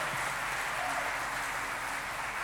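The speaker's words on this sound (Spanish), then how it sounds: "Apláudalo fuerte si va a aplaudirlo." A church congregation applauds in a dense, even patter of many hands that fills the room steadily for a couple of seconds, somewhat distant and soft.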